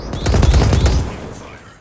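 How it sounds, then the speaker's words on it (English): A salvo of eight missiles striking a ship in a space combat video game, heard as a loud, dense barrage of explosive bursts rolling together and then fading away. "Okay, 8 missiles incoming."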